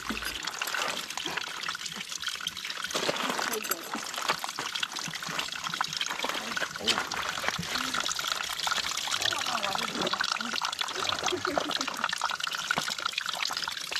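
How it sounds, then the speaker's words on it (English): Spring water trickles steadily from a hillside nearby, a soft continuous splashing flow with faint outdoor ambience and no clear talking. "a little spring coming out of the hillside"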